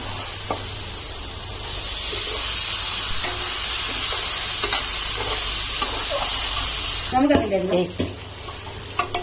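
Broad beans and potatoes frying in a pan, giving a steady close sizzle and hiss, with occasional stirring scrapes and a louder clatter near the end.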